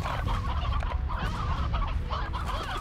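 Hens clucking in the farming game Slime Rancher, a dense overlapping chorus of many birds that stays steady and fairly loud throughout, with no talk.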